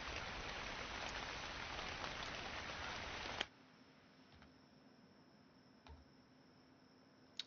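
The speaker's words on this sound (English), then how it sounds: "The rain is very loud." Loud, dense video-game rain pours steadily in a city building-sim setting, then cuts off abruptly partway through, leaving a quiet hiss with a few faint ticks and clicks.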